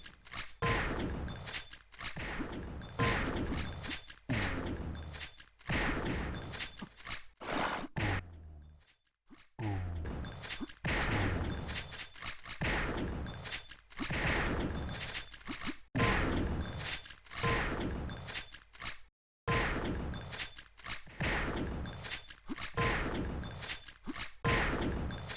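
Gunfire from an instagib duel in the first-person shooter Sauerbraten comes as repeated loud, sharp shots with metallic rings. Short pauses fall between the bursts, and there is no speech.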